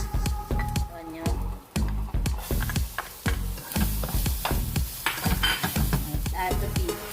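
Onion sizzles in hot oil with garlic and ginger in a pan, a continuous close frying hiss broken by repeated scraping and stirring knocks.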